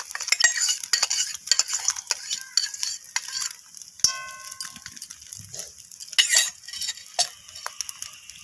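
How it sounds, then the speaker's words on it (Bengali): Beaten egg batter hits hot oil in a pan for an omelette curry, giving a bright, crackling sizzle broken by scraping and clinks of a metal utensil, close up with no voices. "ফেটিয়ে রাখা ডিমের ব্যাটারটা আমি তেলের মধ্যে দিয়ে দিলাম"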